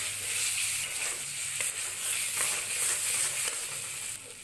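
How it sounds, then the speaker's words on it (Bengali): Fried potato and plantain pieces sautéing with spices in a pan, giving a steady close sizzle with faint stirring scrapes and no talk. "আবার 2 মিনিট মশলার সাথে আলু আর কলা কষিয়ে নেব।"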